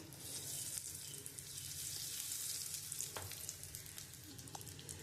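Asafoetida sizzles in hot oil in a pan while cooking green banana kofta, a steady close hissing fry with a few soft pops and stirring clicks.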